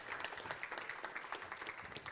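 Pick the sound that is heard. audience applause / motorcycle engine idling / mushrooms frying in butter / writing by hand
audience applause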